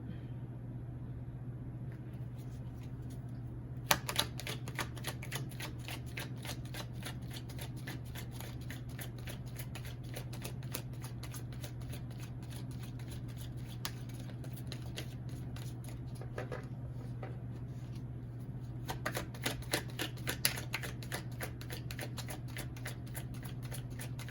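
Tarot cards are shuffled in rapid riffling bursts, one near the start and another later, over a constant low hum, with softer card handling in between and no talk.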